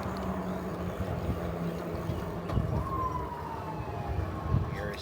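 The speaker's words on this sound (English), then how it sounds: "Oh, you hear the sirens." Emergency vehicle sirens wail faintly in the distance along a Philadelphia street near the Fisherman's Bridge, rising and falling tones under a constant broad rumble of traffic and wind.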